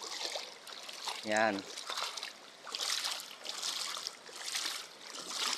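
Flowing river water runs steadily through the whole stretch in an outdoor river setting, with a brief spoken word briefly rising over the continuous wash.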